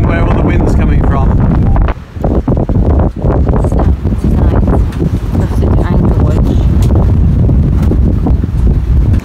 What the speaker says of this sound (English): I think that's the mountain where all the wind's coming from.